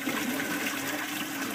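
Water pours steadily down into an aquaponics tank beside a grow bed, a constant rushing gush with no breaks, moderately loud and alone.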